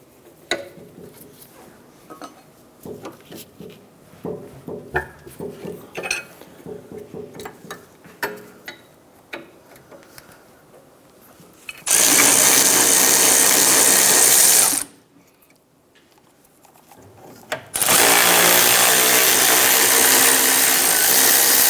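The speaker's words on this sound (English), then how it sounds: "just going to get that wrench on there and go ahead, break that free." Wrench working a caliper bracket bolt loose on the rear hub of a 2008-2013 Nissan Rogue: scattered mechanical clicks and clanks for several seconds, then two long bursts of loud, steady, broadband power-tool noise with a short quiet gap between them.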